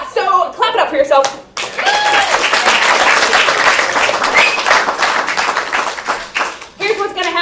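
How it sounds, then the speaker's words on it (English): Loud, sustained applause from a comedy show audience, with clapping filling the room for several seconds before voices pick up again at the end. "So clap it up for yourself."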